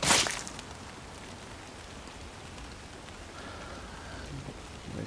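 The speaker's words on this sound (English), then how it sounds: "Nice rain textures." Steady rain hisses and patters across surfaces in The Walking Dead: Saints & Sinners, a soft, even wash of drops that opens with a brief sharp splash, then settles into a quiet, constant fall.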